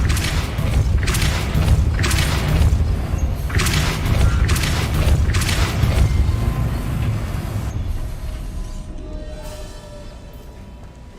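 In the Hogwarts Legacy video game, casting the Depulso spell sets off a series of heavy, booming thumps with a rumbling, rolling weight, which fade gradually into a quieter tail with no talking.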